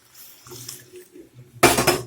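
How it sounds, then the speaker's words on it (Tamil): Lentil water pours briefly into a metal pot with a splashy rush near the end, after some soft clinks and kitchen handling noises. "பருப்பு தண்ணியை கொஞ்சமாக ஊற்றிக்கிறேன்"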